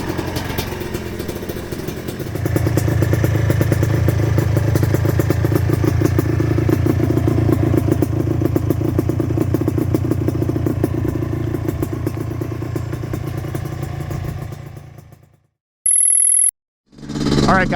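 A ported two-stroke Yamaha Blaster dirt bike engine idles steadily and loudly for about fourteen seconds with a dense buzzing rattle, then cuts out, followed by a couple of brief high electronic tones.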